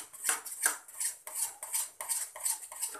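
A spoon stirring suji halwa in a pan, steady rhythmic scraping strokes about three per second, close and fairly quiet with light metallic clinks, no talking.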